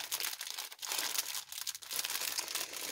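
A mail envelope is torn open by hand, with continuous close paper crinkling and ripping that comes in bursts with brief pauses.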